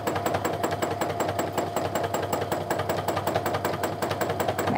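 A sewing machine runs steadily at close range during free motion quilting of a daisy meander, its needle producing a fast, even rhythmic chatter with no pauses.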